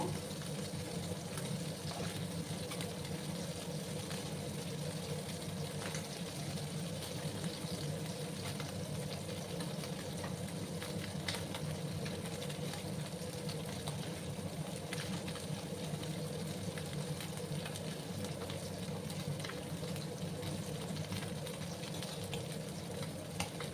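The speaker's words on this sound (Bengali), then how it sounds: "আর একটু সময় আমি মাছগুলোকে একটু লাল করে ভেজে নেব।" Fish frying in oil until reddened, a steady, even crackling sizzle that holds at a low level with no pauses.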